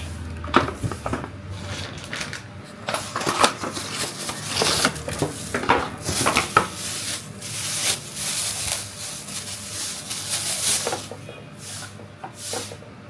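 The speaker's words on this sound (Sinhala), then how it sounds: "මම භාජන ටික තෝරගෙන ඊට පස්සේ ඒ ටික හොඳට වොෂ් කරලා" Baby feeding dishes and utensils are handled close by, producing soft, irregular clinks, taps and rubbing scrapes scattered throughout at a modest level.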